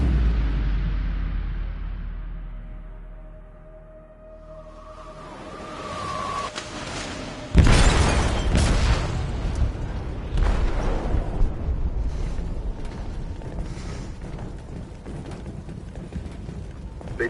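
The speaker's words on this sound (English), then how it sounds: "They detonated an explosive in the hold." An explosive detonates in a ship's hold in Detroit: Become Human, a sudden deep boom followed by a long rumbling, crackling aftermath and debris noise after a quiet tense lead-in.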